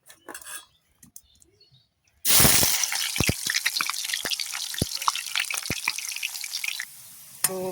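Spring onions and potatoes hit hot oil with a loud sudden sizzle that settles into steady crackling frying, with sharp clinks of a utensil against the pan scattered throughout.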